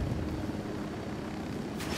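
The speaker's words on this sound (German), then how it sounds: "Helikopter im Anflug." Helicopter approaching in the video game Ghost Recon Wildlands, a faint, steady rotor drone that stays low and distant for the whole moment.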